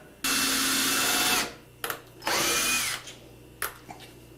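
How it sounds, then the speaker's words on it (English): A power drill runs in two bursts during room construction work, the motor whining loudly for over a second each time, then stopping, with short knocks and clicks in the pauses. "Help me drill this."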